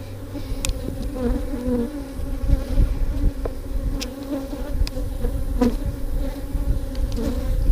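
Honey bees buzzing around an open hive during an inspection, a close, steady drone of many wings with individual bees flitting past and occasional faint clicks.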